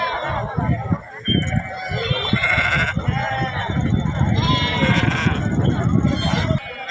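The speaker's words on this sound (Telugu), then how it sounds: "పెద్ద సైజు మేకలు ఉన్నాయి అన్నీ." Large goats and sheep bleat repeatedly at a busy Saturday livestock market in Dubbaka, their overlapping cries close and loud beneath continuous talk and crowd chatter.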